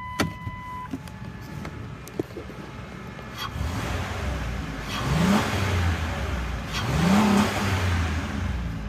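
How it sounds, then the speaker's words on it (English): A 2001 Ford Windstar LX minivan engine runs steadily at close range, rising in two brief revs before settling back each time, with no talking. "Let's go ahead and listen to the engine."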